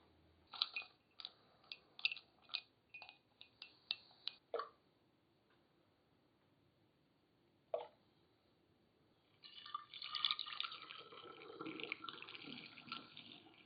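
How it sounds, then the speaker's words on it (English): Steeped tea poured into a soda bottle for homemade kombucha root beer: a run of small sharp clinks and taps, a pause, then a steady close splashing pour lasting several seconds. "we're going to add our steeped tea directly to the bottle"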